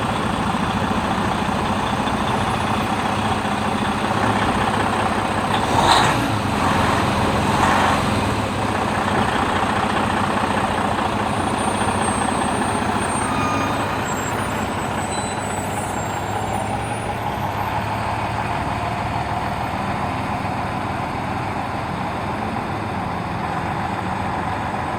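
A truck with a trailer idles while reversing through a right lane offset maneuver among cones, its heavy low engine rumble steady and close for the whole stretch, with a brief air hiss midway and no talk.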